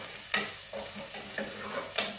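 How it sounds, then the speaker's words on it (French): One-pot pasta is stirred in a pan: four evenly spaced scraping strokes of a utensil over a soft, steady sizzle, close and clear with no speech. "On remue."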